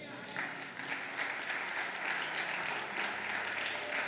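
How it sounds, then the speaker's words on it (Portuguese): A church congregation at a Sunday celebration service claps in praise, a steady wash of applause from many hands, fairly quiet and distant, continuing evenly throughout. "pode aplaudir a Deus"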